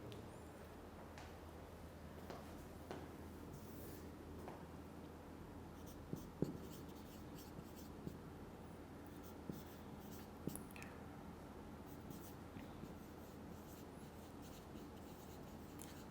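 Handwriting during a math lecture, a faint, continuous scratchy scrawl with occasional light taps from the writing tool, no voice over it.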